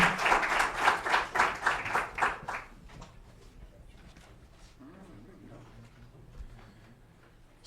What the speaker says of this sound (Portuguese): Uma salva de palmas, professor